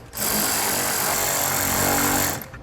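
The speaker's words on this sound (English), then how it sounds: "Now we'll tighten down our U-bolts in an even pattern." Power tool running steadily on U-bolts while tightening Air Lift LoadLifter air helper springs on a 2018 Chevrolet, one continuous loud whirring burst of about two seconds with no talk.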